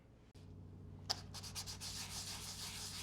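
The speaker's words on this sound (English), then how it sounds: "sanding again with the 400" Steady back-and-forth rubbing of fine sandpaper on wood, soft and close, with a faint low hum underneath.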